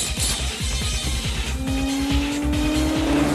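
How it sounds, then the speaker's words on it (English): Racing engines roaring with repeated revving sweeps and a rising whine, with tires squealing, from a motorcycle race scene in Batman & Robin (1997), loud and continuous. "They're doing a motorcycle race."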